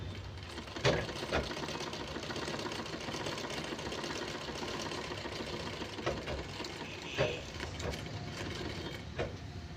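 A small domestic sewing machine stitching, one that has had thread-jamming trouble: a steady close mechanical whir with rhythmic needle clatter and occasional louder clicks, with no voice.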